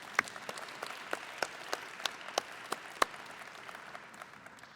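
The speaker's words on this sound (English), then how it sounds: "Can I get a round of applause for them, please?" Sparse, quiet clapping at a military change of command ceremony for an airlift squadron, a few distinct hand claps spaced irregularly and faint against a hushed room.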